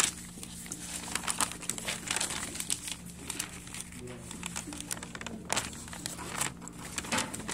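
Sheet of origami paper being folded into a crane, crinkling and creasing in close, uneven bursts with sharper crackles and rustles as the paper resists, under a faint steady hum.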